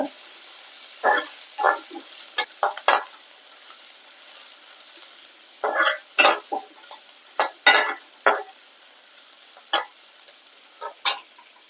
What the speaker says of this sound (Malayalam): കറിവേപ്പിലയും കൂടി ഇട്ട് കൊടുക്കുക നന്നായിട്ടൊന്ന് വഴറ്റിയെടുക്കുക